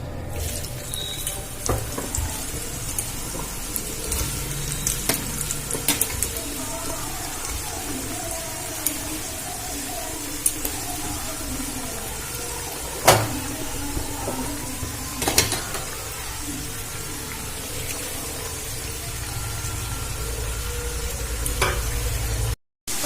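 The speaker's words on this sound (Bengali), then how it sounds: "আমি বাকিগুলো একইভাবে ভেজে নেব।" Potato sticks for french fries frying in hot oil in a home kitchen, a steady close sizzle with occasional sharper crackles and clicks of stirring throughout, no voices.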